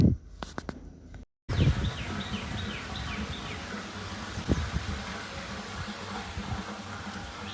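Outdoor ambience with repeated thin bird chirps and calls scattered over a steady hum, after a brief cut to silence near the start.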